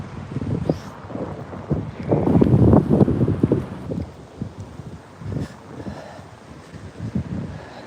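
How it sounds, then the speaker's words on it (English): Strong gusts of wind buffet the microphone in rumbling bursts that swell and ease, with no voices. "So windy today."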